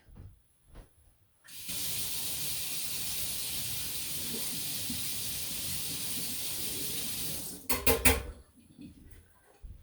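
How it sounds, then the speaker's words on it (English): A whisk rinsed under a running tap, heard as a steady close rush of water for several seconds that cuts off, followed by a few clinks of the metal whisk and faint handling sounds. "Just gonna go rinse my whisk."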